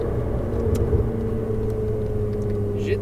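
Ferrari 488 GTB engine on a circuit, heard from inside as a steady, even drone with a firm low rumble and a faint whine, holding constant for a few seconds without talk.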